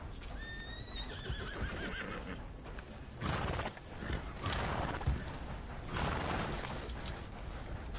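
A horse in Red Dead Redemption 2 gives a loud whinny near the start, then its hooves pound in a galloping clip-clop under a rider's mechanical tack rattle, close and continuous.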